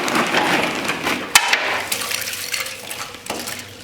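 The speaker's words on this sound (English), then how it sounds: "I am going to put some ice in this bowl of water." Ice cubes tipped from a bucket into a bowl of water, a sharp clattering knock followed by scattered clinks and splashy rattles, close and fairly loud with no talking.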